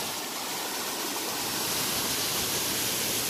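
A waterfall beside the Appalachian Trail roars in a dense, steady rush of falling water, loud and close, with no other sounds breaking through.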